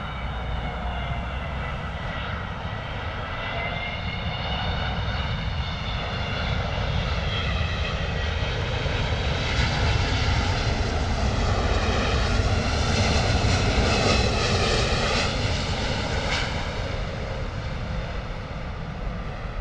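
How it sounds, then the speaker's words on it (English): A United Airlines Boeing 777 arriving from San Francisco on its landing approach at London Heathrow makes a sustained, loud jet roar with layered whining tones that rise and shift in pitch as it passes close by, with no voices. "United Airlines Boeing 777 coming in from San Francisco this morning."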